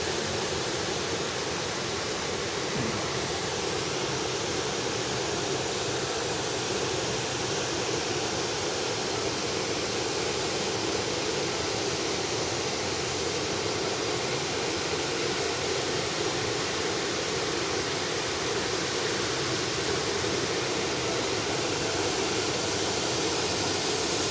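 Steavenson Falls in a forest near Melbourne, Australia, a steady, unbroken roar of falling water heard up close with no voices over it.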